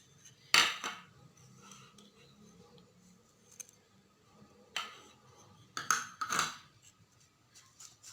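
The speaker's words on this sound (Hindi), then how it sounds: "1 बड़े चम्मच शहद में हम इन दोनों अज़ा को मिक्स कर लेंगे।" Metal spoon clinks and scrapes against a small dish while kalonji seeds and isabgol husk are stirred into a spoonful of honey, a few sharp taps spread out with soft scraping between them, close and quiet.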